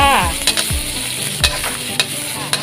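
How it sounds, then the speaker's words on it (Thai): Thai forest curry paste stir-fried with a little vegetable oil in a hot pan: loud continuous sizzling with several sharp scrapes of the spatula at uneven intervals, close up and without any talking. "ตามด้วยน้ำมันพืชนิดหน่อยจ้า ผัดรวมกันจ้า"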